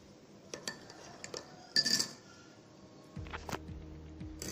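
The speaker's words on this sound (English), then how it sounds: "Mix it well." A spoon stirs raw sugar or jaggery into coriander tea in a coffee mug, giving scattered light clinks against the mug that cluster into a brief burst, quiet overall with a low hum near the end.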